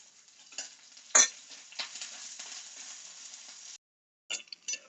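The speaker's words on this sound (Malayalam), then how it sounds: "ഇത് ഈ വെളിച്ചെണ്ണയിലിട്ട് വാട്ടിയെടുക്കണം" Coconut oil sizzles and crackles steadily as garlic and ginger fry in a pan, with a few louder bursts and a brief pause before the sizzling resumes.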